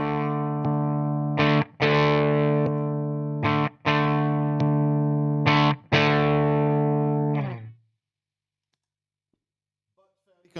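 An electric guitar runs through a combined octave, boost and overdrive pedal, several thick sustained distorted chords rung out in bursts with brief gaps, the last chord decaying into silence, with no talking.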